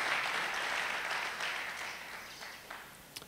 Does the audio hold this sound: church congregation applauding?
yes